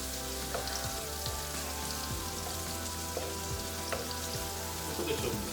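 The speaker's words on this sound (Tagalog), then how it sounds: "Medyo lutuin lang yung sibuyas." Onions sauté in a hot pan with a loud, continuous close sizzle and crackle, and occasional stirring scrapes.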